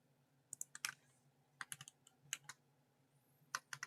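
Computer keyboard typing comes in quick clustered bursts of sharp key clicks with short pauses between groups, close and fairly quiet, with no talking.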